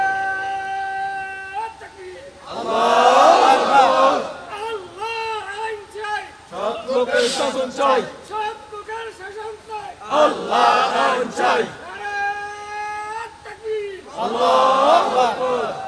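A large crowd chants the takbir, Allahu Akbar, in loud roaring waves that swell and fade several times. A single lead voice calls out in the gaps between the crowd responses.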